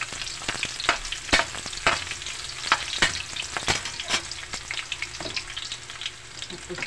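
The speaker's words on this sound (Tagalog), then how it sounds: "Mix natin guys yung sibuyas." Onions sautéing in hot oil for a mung bean dish, a continuous sizzle broken by frequent sharp scrapes and taps of a spatula against the pan, close and lively.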